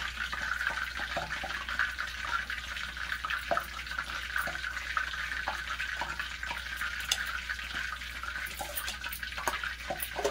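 Cold water pours steadily into maida flour batter seasoned with salt and chilli for fried chicken, a continuous close trickling and splashing running for about ten seconds with no talking.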